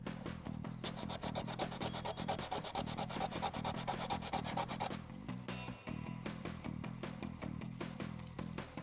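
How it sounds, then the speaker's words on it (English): Hand sanding across a crash-damaged Lamborghini carbon fibre surface: rapid, regular rasping strokes, close and fairly loud, followed by slower, separated scrubbing passes with no speech. "So what I need to do now is sand this area to make that smooth."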